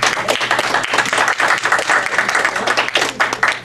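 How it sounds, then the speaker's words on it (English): People at a council on aging meeting applaud loudly in a room, with dense, close-up clapping continuing throughout the clip. "I think Florence deserves a round of applause."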